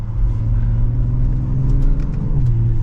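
A 2023 BMW X6 xDrive40i M Sport with its standard engine and ZF 8-speed automatic accelerates in sport mode, giving a steady, loud, close low engine rumble that builds and holds throughout, with no talking.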